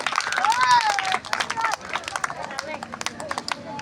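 An audience at a church Christmas program claps loudly in quick, crisp bursts, mixed with excited voices and shouting close by.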